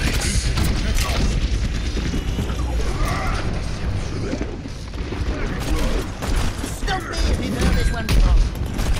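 Junkrat's bomb in Overwatch goes off amid a dense, noisy fight: loud, close bursts of explosions and clattering mechanical weapon noise run throughout, with in-game voice lines breaking in.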